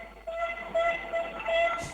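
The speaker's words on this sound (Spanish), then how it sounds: "Un momentito que me retiro de aquí, que ya han empezado esta gente a tirar de bocina." Train horn blowing in repeated steady tonal blasts, moderately loud and somewhat distant, over a low outdoor rumble with no talk.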